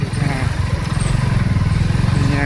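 A motorcycle engine putters at low idle close by, a steady rhythmic chugging throughout.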